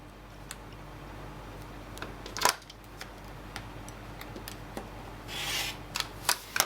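Quilt fabric strip sets are cut into 2.5 inch segments with a ruler. Scattered light ticks and taps lead to a short rasping cut near the end, all close and fairly quiet.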